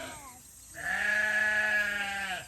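A sheep gives one drawn-out, wavering bleat close by, preceded by a shorter bleat and quiet background.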